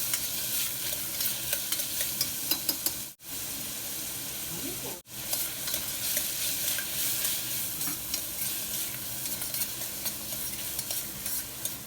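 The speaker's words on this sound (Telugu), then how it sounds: "సగం ఆనియన్స్ ముక్కలు కూడా వేసేసి ఒకసారి ఈ విధంగా కలుపుకొని చిక్కడి పప్పు వేసి ఆనియన్స్ని కొంచెం ఫ్రై చేసుకుందాము" Sliced onions, mint and field beans frying in oil in a pan while being stirred for home-made pav bhaji, a steady close sizzle with scraping stirs, briefly cutting out twice.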